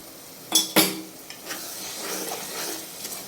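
Prawns are tipped with their oil into a pan with two metallic clatters, followed by soft scraping stirring and a gentle sizzle, close and moderately quiet, with no talking.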